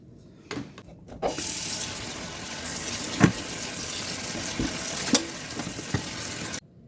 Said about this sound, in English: I'm going to go to my sink and I'm going to rinse, and wring it out